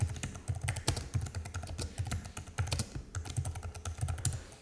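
Rapid typing on a computer keyboard, close and clear, with a steady stream of clicky keystrokes in uneven bursts and a brief pause partway through.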